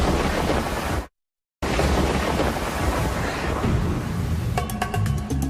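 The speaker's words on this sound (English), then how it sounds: "could this be Earth's most powerful lightning?" Loud, dense roar of thunder with wind and rain, cut off abruptly by a brief silence, then rumbling on with crackling bursts near the end.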